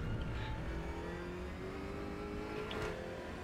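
Racing cars in a sim-racing game drone steadily, with engine tones rising through the gears and a faint whine underneath, all at low level with no voices.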